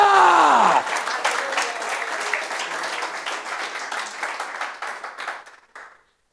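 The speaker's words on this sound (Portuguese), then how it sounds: "Ele merece um aplauso." Applause from a church congregation swells right after a preacher's voice trails off, a dense burst of many hands clapping that continues steadily for several seconds before tapering and stopping.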